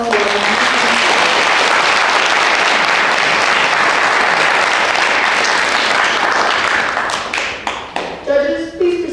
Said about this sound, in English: Let's all give another round of applause for them.